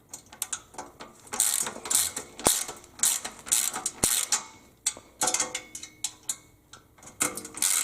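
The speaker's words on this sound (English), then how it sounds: "put your Allen wrench on this side after you've got everything tightened down a little bit," Allen wrench ratcheting as nuts are tightened while assembling a Nitrofit Limber Pro stretch machine: rapid, uneven bursts of close metallic clicks, repeated in quick runs with short pauses, loud and alone.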